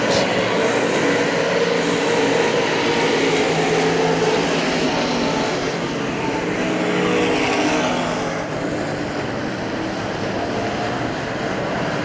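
Race cars at Hagerstown Speedway, a dirt oval, a continuous loud roar of many engines racing around the track with little change in level throughout.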